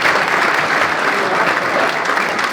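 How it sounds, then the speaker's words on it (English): Clapping from an audience gathered for a senior speech, a loud, dense and sustained roar of many hands close by, steady throughout with no talking over it. "let's clap it up for everyone here again."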